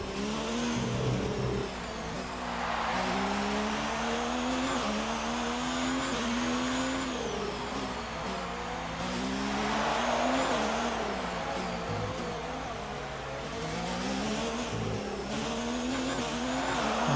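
Formula 1 race cars in a video game, engines screaming and rising through repeated gear-change sweeps for a continuous stretch, loud and steady with passing cars layered in and no talking.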